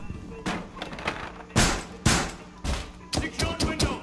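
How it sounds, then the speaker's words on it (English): Gunfire in the tactical shooter Rainbow Six Siege, a series of loud, close bursts and single cracks that land in irregular clusters and get quicker toward the end, with quieter game noise between them. "They're shooting through."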